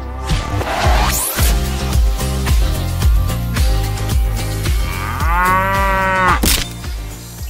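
Cattle mooing used as a jingle effect, sounding as a cow's low moo over a loud, rhythmic music backing with a steady beat, continuous for several seconds with no talk.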